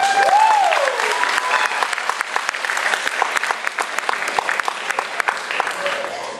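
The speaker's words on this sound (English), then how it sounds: "they deserve a round of applause" A school year-end assembly audience gives a loud, steady round of applause lasting several seconds, with a brief vocal sound at the start.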